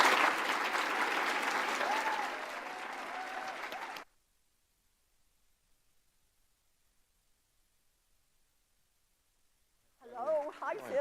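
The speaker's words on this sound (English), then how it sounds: "So let's give a big round of applause." An audience at an APTA legislative conference applauds a senator in a sustained, even burst of clapping lasting about four seconds, followed by near silence and then a voice beginning to speak.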